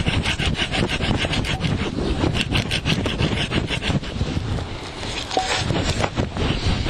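A hand saw cuts through dry wood in steady back-and-forth strokes, close and loud, a continuous rasping rhythm outdoors in rain or snow.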